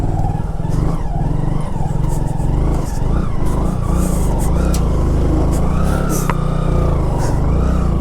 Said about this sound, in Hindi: बाइक भाई फंस रही है,